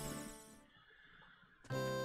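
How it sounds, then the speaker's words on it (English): Two horse neighs from Zelda: Majora's Mask, the first a long whinny that fades away, the second starting sharply after a brief quiet gap, both loud and close with no talk. "Horse there."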